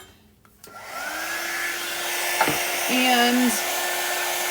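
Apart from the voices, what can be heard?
hair dryer drying fabric ink on a t-shirt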